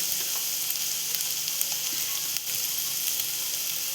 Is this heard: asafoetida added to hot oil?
yes